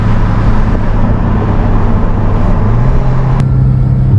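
Engine roar from a green Porsche 718 GT4, two Boxster S 981s and a Cupra 290 racing uphill on a street, a loud continuous droning rumble that shifts pitch slightly as they climb.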